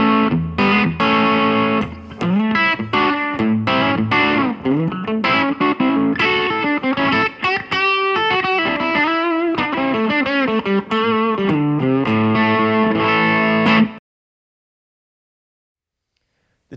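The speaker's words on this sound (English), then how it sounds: "Right now, I've got it back on the Brit Blues setting, and I've dialed in some phaser," Electric guitar played through a Yamaha THR10C amp on its Brit Blues setting with phaser, a loud, continuous run of distorted lead notes and chords with a swirling sweep, then a sudden cut to silence near the end.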